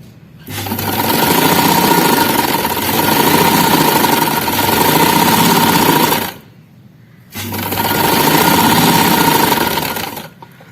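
A sewing machine stitches an A-line frock seam in two loud, close runs of steady motor whirring, separated by a short pause.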